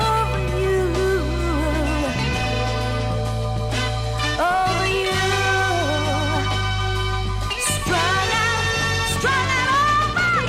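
A sample plays as dense, continuous music with a deep sustained bass, layered melodic lines and a wavering vocal or lead melody throughout, full and steady in loudness.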